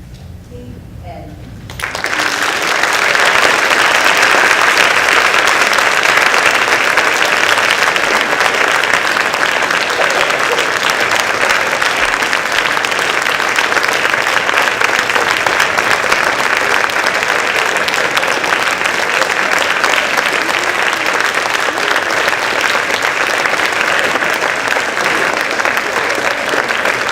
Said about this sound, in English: I just wanted to give another round of applause for that